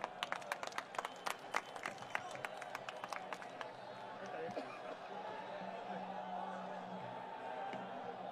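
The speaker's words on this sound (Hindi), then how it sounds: "जोरदार तालियों के साथ स्वागत करें।" A crowd at a political rally welcomes Arvind Kejriwal with rapid, sharp clapping that fades into a steady wash of applause and murmuring voices, heard from a distance.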